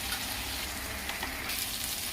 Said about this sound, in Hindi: अदरक लहसुन का पेस्ट भुना चुका है